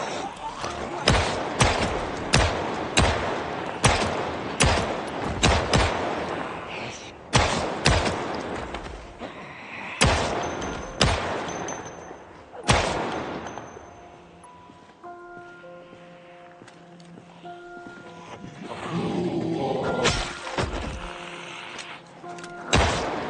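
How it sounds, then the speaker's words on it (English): Gunfire in the video game Project Zomboid, a rapid series of sharp, loud shots in quick succession as a magazine is emptied, then a few scattered shots over softer background sounds and music. "I hate shooting targets on the ground, but I needed to finish off that magazine"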